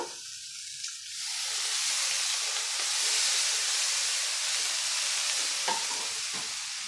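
Broccoli fries in a pan on low heat, giving a steady, close sizzle and steamy hiss that swells after a quiet start and holds evenly, with faint clicks now and then.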